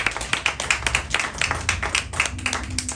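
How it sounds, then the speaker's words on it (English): A small audience claps for a young poet at a poetry reading, with distinct individual claps in a quick, uneven rhythm close by, a few hands rather than a large crowd. "So please, round of applause for Anna"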